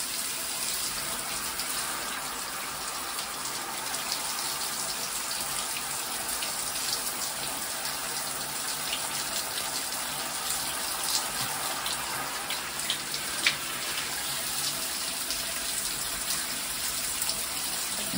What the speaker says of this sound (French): Ça fait du bien la douche, Keno.